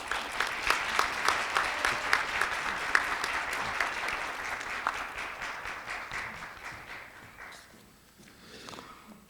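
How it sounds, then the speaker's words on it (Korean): An audience applauds to welcome a minister at a green industry forum, with dense clapping that starts fairly loud and then thins and fades toward the end. "원장관님을 뜨거운 박수로 모셔주기 바랍니다."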